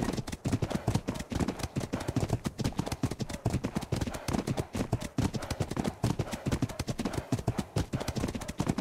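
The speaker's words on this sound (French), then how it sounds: "Oh, d'autres chevaux, des chevaux sauvages." Hooves of wild horses in a prehistoric park-building video game, a dense, loud, continuous clip-clop of many hoofbeats galloping close by throughout.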